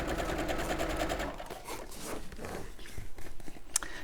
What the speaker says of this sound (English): I'm going to take all of this over to my sewing machine and I'm going to sew those seams